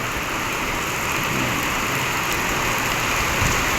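Steady rain pours down in a constant, dense hiss, drumming evenly on surfaces without pause.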